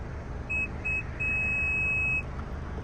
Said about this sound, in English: Push and hold through 2 sets of beeps